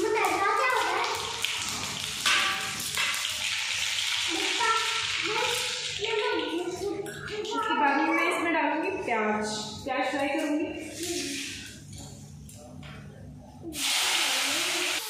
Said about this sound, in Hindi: तो चलो मैं तड़का लगाती हूँ इससे